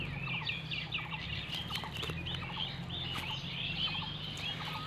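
Several birds call and chirp repeatedly in a morning garden, including gobbling, clucking fowl that sound like turkeys and chickens, steady and fairly close over a constant low background hum.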